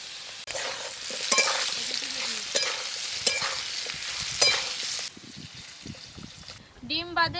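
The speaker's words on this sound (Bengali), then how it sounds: "লবণ, পেঁয়াজ কুচি, কাঁচা লঙ্কা কুচি, লবণ আর হলুদ দিয়ে আলুগুলো ভেজে নেব।" Potatoes frying with chopped onion, green chili, salt and turmeric give a steady close sizzle with scraping stirs for about five seconds, then the frying quietens and a voice speaks briefly near the end.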